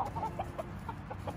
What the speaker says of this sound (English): It has been so much fun hearing a rooster crow around here.